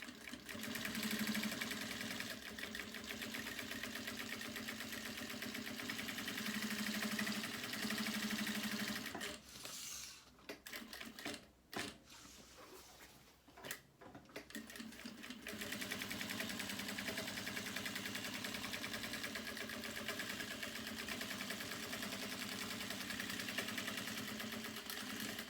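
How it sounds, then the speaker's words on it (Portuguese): A sewing machine stitches a seam on a fabric notebook sleeve, a close, fast mechanical chatter that runs steadily, stops for several seconds of quieter handling clicks, then resumes at the same pace. "Aí agora aqui eu vou passar uma costura aqui e aqui, certo?"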